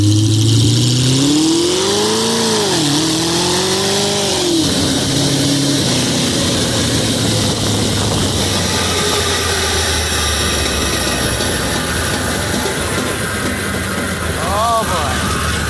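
A rat rod tractor engine revs and falls with its back brakes binding, the pitch sweeping up and down early before settling into a rough, loud mechanical drone.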